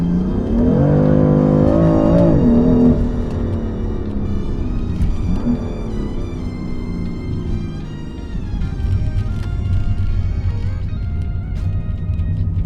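A BMW M4 engine pulls hard in second gear, a loud close-up roar whose pitch climbs steadily, dips briefly at a shift, then drones on with steady cabin road noise.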